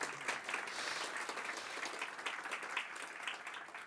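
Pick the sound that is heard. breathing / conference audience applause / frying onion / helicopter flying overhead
conference audience applause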